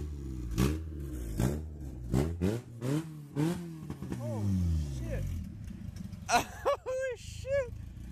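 A Honda Integra engine revs hard in repeated rising bursts through its exhaust, loud and close, then settles toward idle with a few sharper blips near the end.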